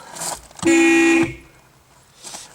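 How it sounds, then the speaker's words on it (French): A single loud blast, about half a second, bright and buzzy, from an aftermarket Nismo sport horn on a Nissan Skyline R34 GT-R V-Spec, with quiet surroundings before and after. "Et le klaxon Nismo."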